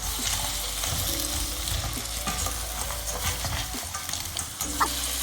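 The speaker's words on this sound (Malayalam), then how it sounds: "ഇതിന് ശേഷം നന്നായിട്ട് ഇളക്കി യോജിപ്പിച്ച് കൊടുക്കണം." Crab curry sizzles and fries in a pan while being stirred, with steady spitting sizzle and occasional scraping, clattering strokes of the spoon close by, no talking.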